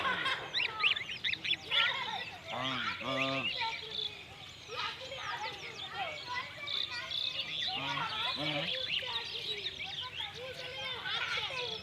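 Geese kept on a riverbank honk in several short bursts amid scattered bird chirps, with a person talking over the flock through much of the stretch.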